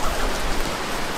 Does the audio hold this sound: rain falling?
yes